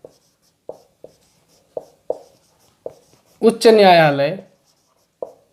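A teacher writes on a board with chalk, making sharp, evenly spaced taps and short strokes, about nine of them, close and clear in a quiet room, broken once by a short spoken phrase.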